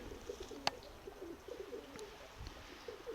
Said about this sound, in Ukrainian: голуби.